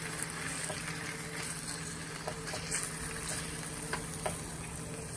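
Beefsteak (bistek) sizzling in a pan with sauce, a steady close frying hiss with small crackles and pops throughout and no talking.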